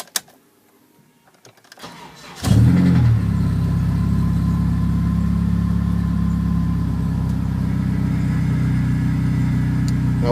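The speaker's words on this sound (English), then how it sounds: "But I'll just turn the car on." Near and loud, a Dodge Stratus car engine cranks and fires up after a few quiet seconds, then holds a steady idle for the rest of the clip.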